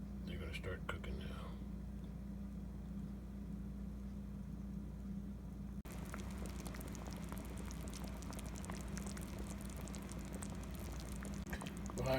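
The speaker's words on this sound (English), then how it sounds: "Now to cook them in a frying pan with water." Beef patties sizzle and bubble in a frying pan with water, a steady crackling hiss that grows busier and louder partway through.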